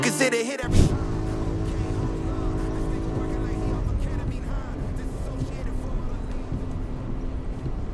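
An old engine that sat outdoors for eight years revs hard while a car drifts on snow, a loud sustained high-pitched drone that starts abruptly after a brief silence and holds steady throughout.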